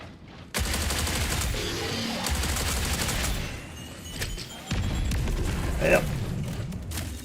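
Dense gunfire from a video game gun rattles in sustained bursts, loud and close, pausing briefly before resuming, with a voice speaking over parts of it.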